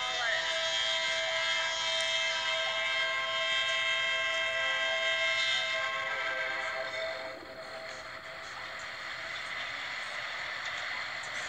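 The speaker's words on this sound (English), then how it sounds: "Western New York freight train coming." A very short Western New York and Pennsylvania freight coil train hauling a gondola rolls past at close range, a loud steady rumble and clatter of wheels that eases off slightly toward the end.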